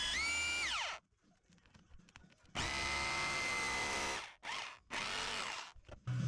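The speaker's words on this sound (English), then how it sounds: "Then I use my SDS drill to bore out the hole." SDS hammer drill boring a hole into brick during roof insulation work, loud close bursts of drilling that stop and restart several times, with short pauses between.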